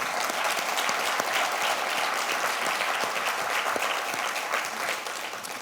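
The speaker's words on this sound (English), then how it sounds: "Please join me in a very well-deserved round of applause for Meredith and the fantastic team at" A conference audience at the CTIA 5G Summit applauds steadily, many hands clapping loud and sustained before tapering off at the end.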